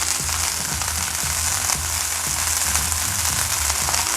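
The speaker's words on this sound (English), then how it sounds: "You do have tongs because this one is splattering a lot." Pot roast meat searing in a hot pan, a loud, dense hiss of sizzling fat with frequent sharp crackling pops and splatters, close and continuous.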